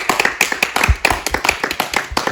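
A small group claps for a film crew at the end of a making-of screening, brisk uneven hand claps close by, brief and without talk.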